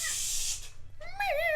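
A cat calls out indoors, faint at first, then a brief hissing rush and a short, rising and falling meow near the end, all fairly quiet.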